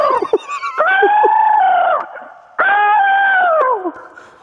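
A person imitates a basic crow caw by voice at a radio show impression contest, giving two long, loud, harsh drawn-out calls close to the microphone, with brief sounds before them.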